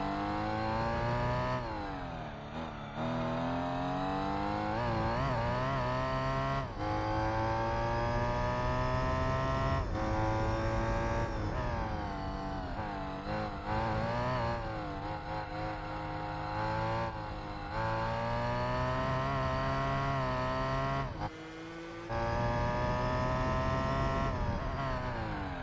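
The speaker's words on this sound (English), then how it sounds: "Those are some beautiful downshifts." Race car engine in Gran Turismo 4 revving hard and dropping through downshifts, with rising and falling harmonic sweeps and brief throttle cuts, loud and continuous throughout with no talk.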